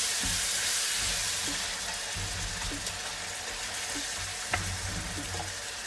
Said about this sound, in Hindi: और इनको भूनेंगे 5-7 मिनट के लिए